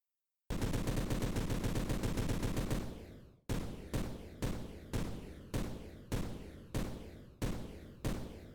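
Game gunfire from a weapon in a Godot third-person shooter: a rapid burst of automatic shots for about three seconds, then seven separate loud single shots at a steady, roughly half-second spacing, each with a short decaying tail.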